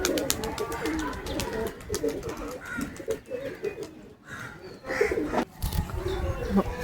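A second trained pigeon is released outdoors, with repeated cooing from nearby birds and short bursts of flapping wings over a steady ambient background.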